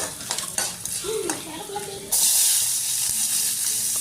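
Ingredients stirred and sautéed in a hot pan (vaanali) for Tamil coriander chutney, a utensil scraping and clattering before a loud, steady sizzle of frying takes over, close and continuous.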